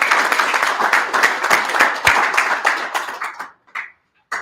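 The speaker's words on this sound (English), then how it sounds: "let's give a round of applause for the call" Audience applause at a Web3 Texas blockchain education event, a dense burst of clapping from a crowd that carries for about three seconds, then thins into a few scattered claps and stops.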